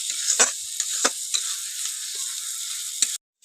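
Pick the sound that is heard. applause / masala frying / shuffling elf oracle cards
masala frying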